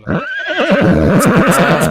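A horse at the Yeola horse market, brought from Baramati, whinnies loudly and close up in a single long, wavering neigh that fills the whole moment, with no voices over it.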